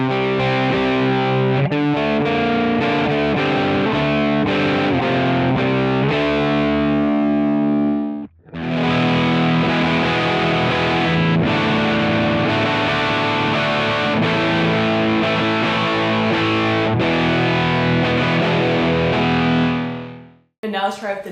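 Distorted electric guitar through a Yamaha THR10 practice amp's lead preset plays a lead line with sustained, saturated notes and chords, loud and continuous, with a brief pause midway and a short break near the end.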